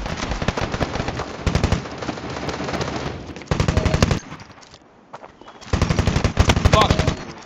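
Rapid automatic P90 submachine gun fire in the mobile shooter Standoff 2, loud, close bursts of dense rattling shots separated by brief pauses, with faint voice and game sounds underneath.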